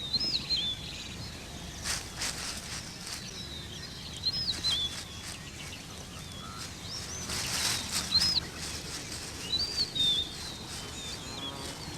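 A tawny eagle and a vulture arrive at a carcass, with soft wing flapping and rustling in the open bush, joined by repeated high bird calls scattered across twelve seconds of low outdoor ambience.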